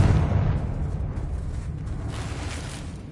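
Confringo spell explosion in the Hogwarts Legacy video game, a deep rumbling blast that starts loud and decays into a long, fading roar with no talk over it.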